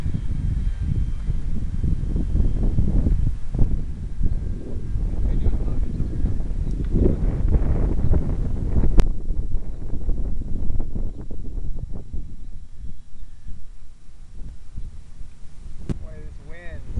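Strong wind sweeps across an open model airplane flying field, roaring and buffeting the microphone in a continuous low rush that eases slightly toward the end.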